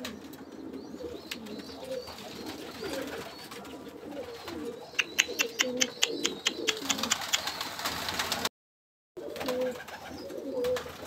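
Pigeons coo steadily on a rooftop in hot weather, soft repeated low cooing calls close by, with a brief run of sharp clicking or chirping sounds and a short dropout near the end.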